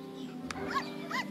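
Dog in a lottery TV commercial giving two short, high yips or whimpering barks, fairly quiet over a steady background hum.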